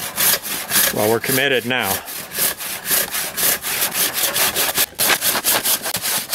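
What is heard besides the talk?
sawing green wood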